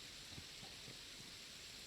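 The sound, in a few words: rain in the video game Satisfactory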